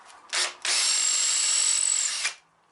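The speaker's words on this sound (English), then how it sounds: "I'm going to just put a little guide hole in the brick wall so I can follow through that in a minute with a bigger drill" A masonry bit drills a small guide hole into a brick wall, with a brief opening burst followed by a steady, loud whine of about a second and a half that cuts off sharply, and no talking.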